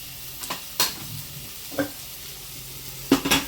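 Onions sautéing in a pan on the stove, with sharp spoon stirs and scrapes over a faint, steady sizzle, close and fairly quiet.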